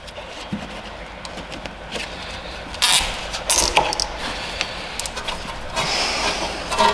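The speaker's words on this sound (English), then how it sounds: "Alright, so we have the cable tie. We're just gonna snug it up around here." A plastic cable tie is snugged up around a rear control arm part on an MK3 Audi TT, giving short ratcheting clicks and scrapes in bursts over quiet background noise.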